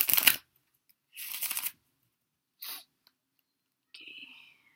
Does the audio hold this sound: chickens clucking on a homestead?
no